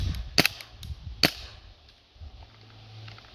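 Several sharp snapping shots from a KWC P08 Luger blowback air pistol fired at a target, two strong cracks and a few lighter pops spaced irregularly, fairly close.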